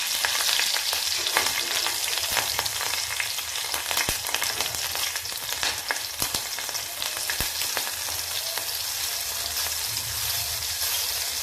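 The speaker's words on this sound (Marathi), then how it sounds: "त्या तेलामध्ये हे मिरचीचे 5 ते 6 तुकडे टाकते।" Green chilli pieces frying in a little hot oil in a heated pressure cooker, a dense, steady crackling sizzle with scattered pops, loud and close with no talking.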